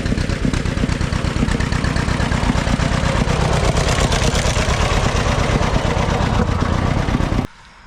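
Auction tractor engine idling steadily nearby, loud continuous rumble with a rapid rhythmic chug for about seven and a half seconds before cutting off abruptly.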